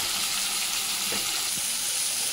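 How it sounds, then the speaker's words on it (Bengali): Tomatoes fry in a pan with a soft, steady sizzle at low volume, broken by a couple of faint stirring knocks. "টমেটোটা দিয়ে ভালো করে কষাই।"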